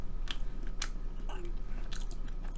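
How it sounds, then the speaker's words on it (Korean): Someone chews walnut cake with red bean filling up close, with several crisp walnut crunches spaced out among softer, wet mouth sounds and no speech. "호두 씹히는 소리 들리시죠?"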